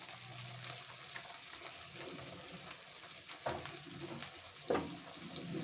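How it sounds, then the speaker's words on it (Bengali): Mushroom masala sizzling and being stirred in a pan, a steady close frying hiss with occasional scraping stir strokes and a louder clatter near the end. "এটাকে ভালো করে কষে নেবো।"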